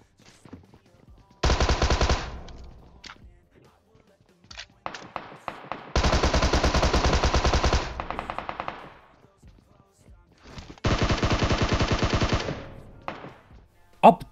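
Heavy automatic gunfire in a shooting video game, three long sustained bursts loud and close, with scattered single shots and thuds between them; a door is being blasted open.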